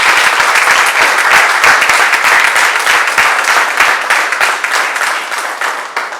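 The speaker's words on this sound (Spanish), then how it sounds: "Vamos a darle un aplauso al Señor." Church congregation applauding during a Spanish-language sermon: a loud, sustained wave of many hands clapping, sharp individual claps audible within the roar, gradually easing toward the end.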